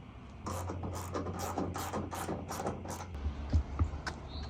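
A 9/16 wrench ratchets in a quick series of clicks while tightening a bolt on a Dodge Ram truck during a soft topper install, followed by a couple of soft metallic knocks, close and fairly faint.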